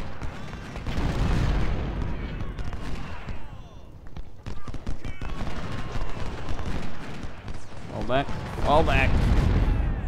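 Civil War artillery in Ultimate General thunders in repeated heavy cannon booms mixed with crackling musket volleys, loud and sustained, with talking over the battle noise.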